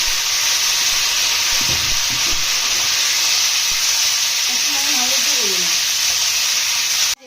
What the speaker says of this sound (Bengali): আর এদিকে আলু আর কাঁকরোলগুলো ভাজা হচ্ছে